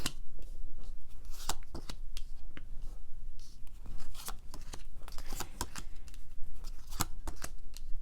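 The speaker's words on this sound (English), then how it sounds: "Let's just pull some final cards here." Tarot cards shuffled and pulled from the deck, a steady run of crisp papery riffles and flicks with sharp snaps, close and fairly loud with no talk.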